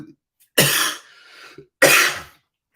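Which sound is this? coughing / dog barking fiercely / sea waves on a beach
coughing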